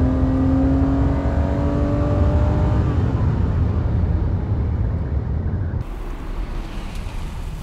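A rare sports car, one of about 20 in the UK, revs hard and accelerates with its engine note climbing loud and close, then the roar drops away abruptly near the end as it pulls off.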